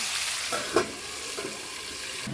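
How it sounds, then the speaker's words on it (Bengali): Fried fish being poured into tamarind sauce in a pan: a constant close sizzle with a soft splashing thud early on and faint stirring movement, no voices. "তারপর তেঁতুলের মাছটা যে বের করানো আছে সেটা ঢেলে দেবো"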